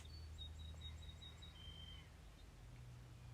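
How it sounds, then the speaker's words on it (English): A small bird chirps in short, high tweets, a quick series followed by a longer whistled note, faint over a low steady hum. "It's a noisy little bird."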